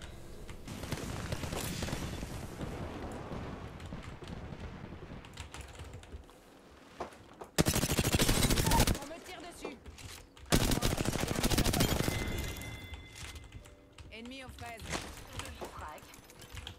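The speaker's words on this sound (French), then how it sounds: "Le feu ennemi." Bursts of automatic enemy gunfire ring out in the battle royale shooter Apex Legends, loud and rapid, starting and stopping over steady game noise and keyboard clatter, while a player talks throughout.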